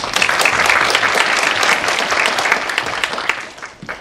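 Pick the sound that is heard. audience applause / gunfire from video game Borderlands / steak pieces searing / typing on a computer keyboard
audience applause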